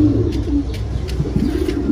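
Cooing of an İsbir pigeon, a female, repeating in a steady low throaty rhythm close by under faint background noise.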